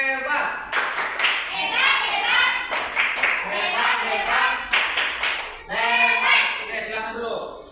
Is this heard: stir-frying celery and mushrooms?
no